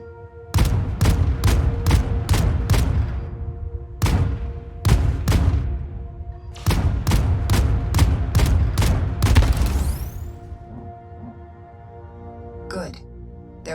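Weapon fire in the space game Void Crew destroys a container. Rapid bursts of sharp, loud shots come in several clusters, followed by a ringing mechanical hum.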